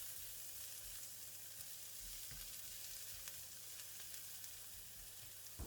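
Yellow onions frying in garlic oil in a pan for crab fried rice, a steady close sizzle with a dense, even crackle throughout and no talking.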